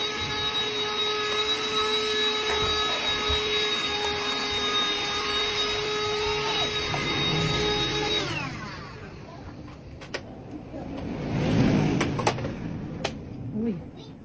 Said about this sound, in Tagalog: Dumating na rin pala yung vacuum cleaner na in-order ko.